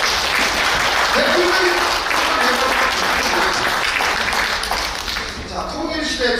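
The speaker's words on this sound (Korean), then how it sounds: "박수 한번 쳐주세요." Lecture audience applause at a Korean academic presentation, loud continuous clapping from many people with some voices mixed in beneath it, holding steady for the full stretch.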